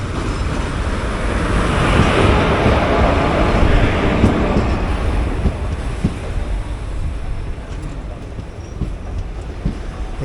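The 20-car 20633 Vande Bharat Express, bound from Shoranur to Thiruvananthapuram, pulls away while heard from an open door: a loud, close rolling rumble mixed with gusting wind rush that eases slightly toward the end.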